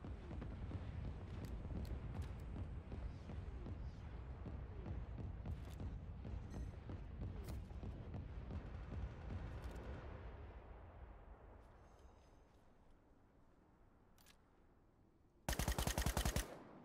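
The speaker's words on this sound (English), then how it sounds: "Artillery fire incoming." Video game artillery barrage, a dense run of rapid heavy booms and blasts for about ten seconds that fades into a quieter rumble, then a brief loud noisy burst near the end.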